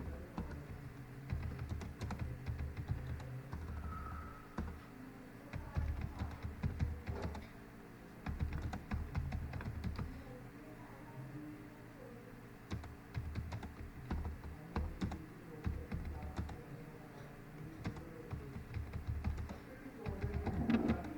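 Computer keyboard typing during a video editing class, long bursts of close, quick key taps with brief pauses, continuing for about twenty seconds under a faint room hum.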